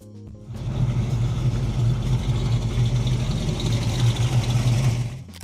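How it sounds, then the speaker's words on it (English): A 1974 AMC Javelin AMX with a 401 V8 engine runs with a steady, loud, deep rumble that holds at an even level for several seconds, close up and with no talk. "1974 AMC Javelin AMX 401."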